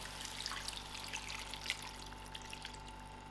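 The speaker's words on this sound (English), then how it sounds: "So the remainder cup of water I'm going to add into the cooking." Water trickles and splashes softly into a pot of cooking lamb chops and potatoes, quiet and close, over a low steady hum.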